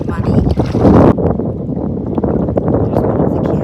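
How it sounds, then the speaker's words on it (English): Wind gusts roar over a lake on a solo canoe trip in Temagami, a loud buffeting rush that swells and then settles into a steady blustery noise. "The wind has been gusting quite a bit."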